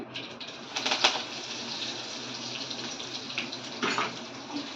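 Curry leaves drop into hot oil with sizzling mustard seeds, and a loud, steady frying hiss swells in bursts near the start and again toward the end.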